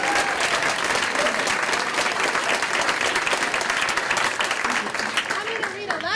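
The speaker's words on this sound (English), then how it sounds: "Let's give them some applause." Enthusiastic audience applause honouring a construction team and architects after a basement building project, loud and continuous, with a faint voice near the end.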